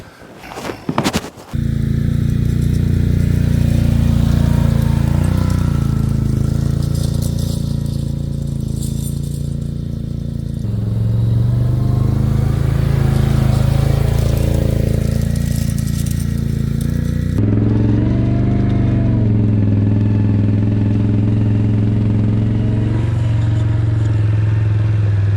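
2023 Can-Am Outlander XT850 ATV engine under way on a trail, a loud close low drone that rises and falls with throttle, with clatter and rushing wind over it.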